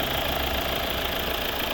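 A 2014 Volvo V70 2.0 D4 diesel engine idles steadily nearby, a constant low, even rumble with no change in pace.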